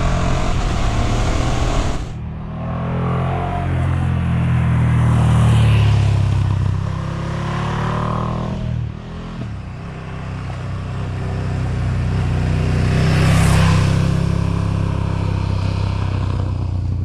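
A 2019 KTM 1290 Super Duke GT engine revs hard several times in bursts, loud and close, rising and falling with rough, uneven idle dips between blips and no talk over it.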